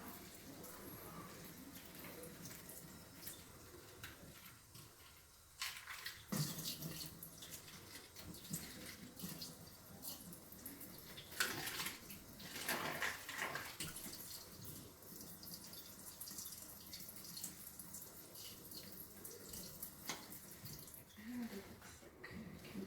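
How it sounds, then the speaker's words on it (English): Bleach water poured and rinsed through stained fabric over a sink, soft splashing and trickling that comes and goes with louder gushes, faint overall, with a person talking intermittently. "I'm gonna try to rinse it out here. I'm gonna try to do it right over my sink."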